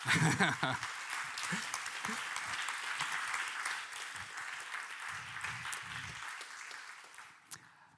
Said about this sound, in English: It always feels good to get applause